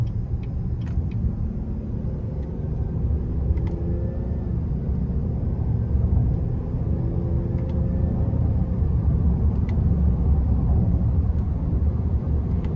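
A 2024 Buick Enclave Avenir AWD with the 3.6 engine drives in low gear, a steady low engine and road rumble heard from inside the cabin, with faint ticks from the paddle shifters.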